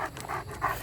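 A large Great Dane pants heavily in rapid, breathy rhythmic huffs. It is close and steady, and there is no speech during the panting.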